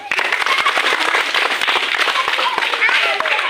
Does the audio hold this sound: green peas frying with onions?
no